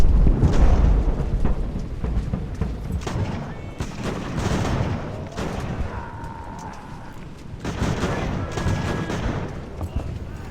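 Dense, rolling musket volleys from American Revolution-era infantry battling in Georgia in Ultimate Admiral: Age of Sail, loud and continuous, with heavy booming crackle and overlapping shots.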